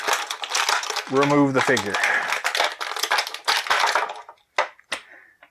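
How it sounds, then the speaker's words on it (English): Plastic packaging crackles and crinkles in rapid bursts while a Marvel Legends Walgreens exclusive Magik figure is unboxed, with a short spoken remark partway through and a few sharper snaps near the end. "bear with me while I crumple plastic"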